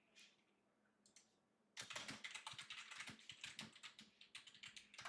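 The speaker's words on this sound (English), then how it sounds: "I'm typing it out." Rapid typing on a computer keyboard, a quiet pause and a few stray clicks giving way to a dense, steady run of close keystrokes.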